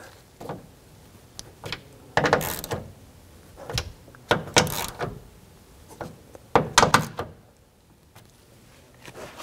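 Nuts are tightened on a 1997-2004 Dodge Dakota sideview mirror inside the door, a series of irregular ratcheting clicks and metallic scrapes in short bursts, fairly quiet with pauses between them.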